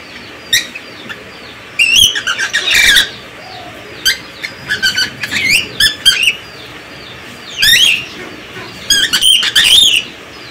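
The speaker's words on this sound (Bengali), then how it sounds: "তো এই যে নীলয় বাবু ঘুমাইছে, আর এই যে পাখিগুলা রাত্রে ঘরে নিয়ে রাখি, সকালবেলা বের করে দিই।" Chickens on a village farm, let out of their coop in the morning, give short bursts of wing flapping with sharp chirps and squawks close by. Quieter gaps fall between the outbursts, and no one talks.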